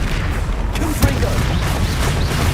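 Booming blast of the Confringo explosion spell in a Harry Potter video game, a dense low rumble with a sharp burst near the middle, overlaid by voices.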